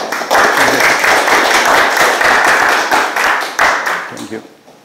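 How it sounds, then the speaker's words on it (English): Audience applause following the introduction of a lecture at an academic event, a dense, steady clapping from a crowd that fills most of the moment before tapering off at the end. "Please applause."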